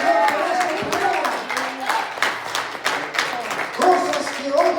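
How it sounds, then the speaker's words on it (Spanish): Scattered clapping from a church congregation with voices calling out over it, the claps irregular and moderately loud throughout. "Denle aplauso al Señor por esta palabra."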